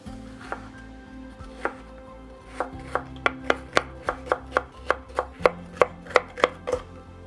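A knife dices a bell pepper on a cutting board, sharp regular taps speeding into a quick steady rhythm, close and crisp with no talking.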